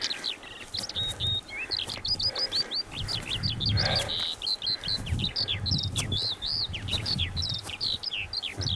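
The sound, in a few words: bird singing on a mountain hike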